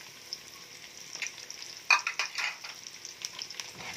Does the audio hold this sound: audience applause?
no